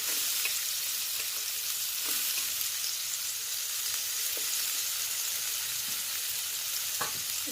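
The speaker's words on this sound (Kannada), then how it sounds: "ಸ್ವಲ್ಪ ಚೆನ್ನಾಗಿ ಫ್ರೈ ಮಾಡ್ಕೊಳ್ಳೋಣ" Chicken pieces with the skin on sizzle steadily in hot oil, a continuous close frying hiss with occasional crackles and stirring taps, no voices.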